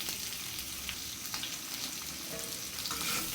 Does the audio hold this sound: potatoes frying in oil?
yes